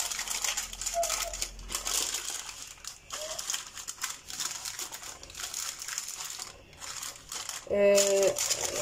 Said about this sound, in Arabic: غنغطيه بهذا الورق ديال الزبده